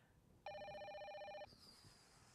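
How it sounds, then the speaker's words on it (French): A telephone rings once with a bright electronic trill lasting about a second, fairly clear over a quiet room, followed by a faint tone and low background. "Téléphone."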